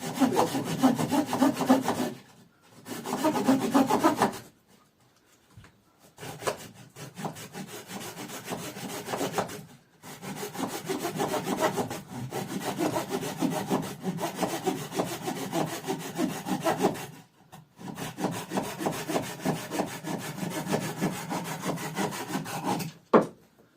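Rhythmic strokes of a hand saw biting through wood, worked in several bursts separated by short pauses, close and fairly quiet.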